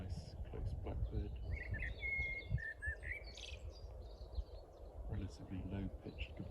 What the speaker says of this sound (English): It's a nice close blackbird.